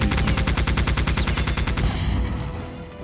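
Rapid automatic gunfire in the shooter game Geist, a loud close burst of evenly spaced shots about a dozen per second, stopping after about two seconds and leaving a fading echo.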